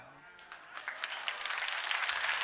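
An audience at a Korean business talk bursts into applause that builds from quiet to a steady, moderately loud patter of many hands, rising out of a speaker's voice at the start.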